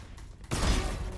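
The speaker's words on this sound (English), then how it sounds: "Flashbang." A flashbang grenade detonates in a first-person shooter game: a short quiet lead-in, then a sudden loud blast followed by a sustained ringing burst.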